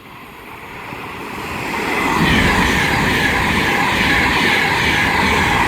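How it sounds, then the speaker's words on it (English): A Virgin Pendolino electric train bound for London Euston passes on the West Coast Main Line at South Kenton, building from a distant rumble into a loud, steady close roar and rush of wheels and air. "now ready to pass by is going to be a Virgin Pendolino for London Euston"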